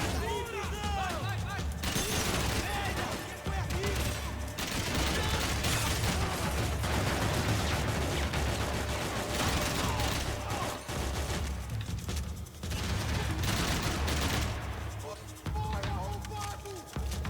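Dense gunfire from Max Payne 3 rattles almost without pause, rapid bursts and single shots piling up loud and close amid game effects, with voices talking over the shooting at points.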